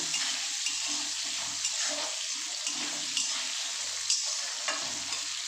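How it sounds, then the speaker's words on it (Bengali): Potatoes and capsicum frying in a pan with oil, stirred with a spatula: a steady close sizzle broken by repeated soft scraping strokes throughout. "আমি এর সঙ্গে একবারে আলুটাকে একটু যা ভাজা ভাজা করে নেব"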